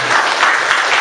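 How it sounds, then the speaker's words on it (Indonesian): Applause at a school song competition for children, a brief loud burst of many hands clapping together, dense and continuous for the whole moment. "Tepuk tangan Ragu A"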